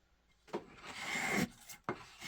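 A wooden spokeshave planes shavings off wood, its blade partly dull on one side, making a couple of short raspy scraping strokes close by, the first long and the second brief, with no talk.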